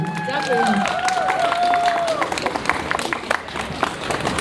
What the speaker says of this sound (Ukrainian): Оплески нашому Олександру переможцю.